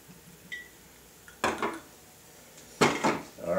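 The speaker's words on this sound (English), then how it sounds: "All right, give it a little stir." A spoon clinks against glass while stirring a Spiked Arnold Palmer made with lemonade and Absolut Lime vodka, giving two or three close, bright scraping knocks separated by short pauses.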